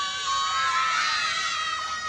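Children and an audience at the end of a school dance program cheer and scream together in one loud, sustained burst of high shouting that fills the whole moment.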